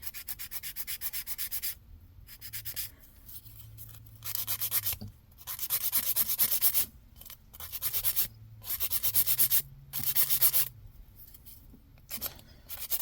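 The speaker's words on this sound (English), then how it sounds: "I'm just going to start filing away." Polygel or hard gel nails being filed with a nail file, rhythmic close rasping strokes in short bursts separated by brief pauses.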